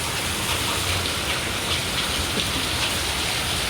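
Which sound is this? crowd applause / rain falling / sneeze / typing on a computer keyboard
rain falling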